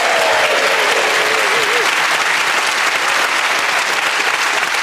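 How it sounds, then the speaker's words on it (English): A studio audience on a radio panel game show applauds the winner, a dense and steady wash of clapping that stays loud and even from start to finish, with no talk over it. "And a round of applause for our winner today, which is Sue Perkins."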